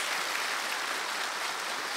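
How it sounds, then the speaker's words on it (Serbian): A studio audience applauds a rock bass guitarist on a TV show, a dense, steady wash of clapping heard close and alone without any talking. "Molim jedan aplauz za Jovanovog drugara"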